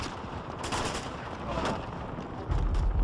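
Enemy gunfire from Uncharted 2 crackles in rapid bursts, loud and sustained, with a heavier blast toward the end, while a player talks over the shooting.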